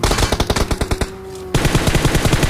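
Rapid automatic M4 rifle fire in the BGMI mobile battle royale game, loud close bursts of evenly spaced shots with a brief pause before the firing resumes.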